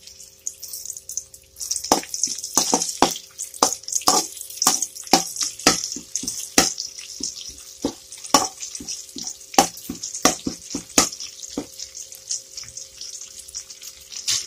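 Curry leaf sprigs sizzling in a teaspoon of hot oil in a pan, a run of sharp crackles and pops, irregular and close, over a faint steady hiss.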